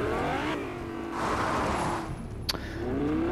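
A car drives in the Fortnite video game, its engine revving and rising in pitch with brief tire noise, loud and continuous throughout.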